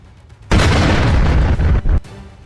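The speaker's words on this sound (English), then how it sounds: "The missile hits directly, but the armor holds." An ATGM missile strikes a Bradley armored vehicle on a battlefield, a sudden loud blast that erupts and roars for about a second and a half before cutting off.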